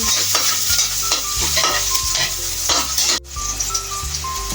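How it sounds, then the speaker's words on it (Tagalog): Garlic and onion sautéing in a hot kawali, a loud close sizzle broken by repeated stirring scrapes and clinks of the utensil, with a brief dip near the end. "Mainit na yung kawali. Bisa na natin itong bawang sibuyas."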